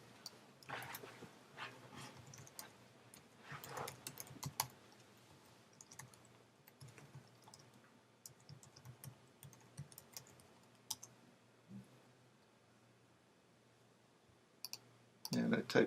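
Computer keyboard typed on in bursts of quick clicks with pauses between, fairly quiet and close, with a louder flurry of keystrokes at the end and someone talking in places.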